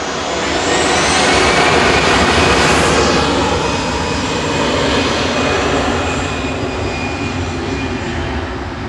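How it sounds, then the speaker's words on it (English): EasyJet airliner, flight 2103 to Nice, roaring loudly and steadily at Manchester Airport, a broad engine rush with a faint high whine that shifts slightly as it passes, with no talk. "EasyJet to Nice with flight 2103."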